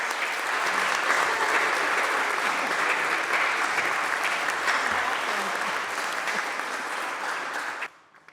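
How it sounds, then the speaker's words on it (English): Polite, golf-style applause fills the Senate chamber, a sustained wash of clapping at steady volume that cuts off abruptly near the end. "It's like golf applause."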